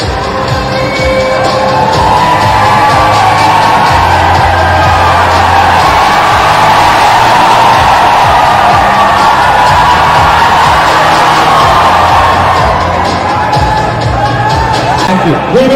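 A large crowd of fans at a Yash event in Kerala cheers and shouts continuously, a loud, dense roar of voices and whoops that holds steady throughout.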